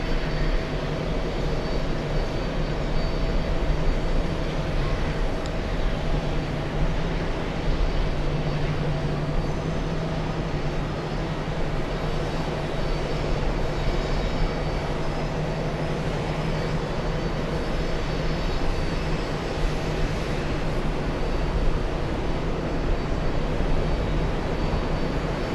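Scandinavian airliner jet at JFK airport, with a steady, distant engine rumble and whine holding at an even level throughout, like a plane taxiing.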